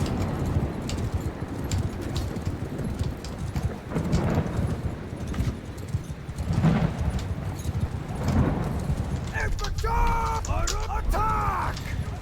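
Horse hooves clip-clop in a medieval battle in the game Bannerlord, beating rhythmically and fairly close amid battle noise, with whinnying near the end while someone talks over the scene.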